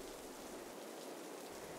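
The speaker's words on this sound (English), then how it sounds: "Yeah, I know it's raining" Steady rain falls continuously, a dense even hiss of drops with no other sounds.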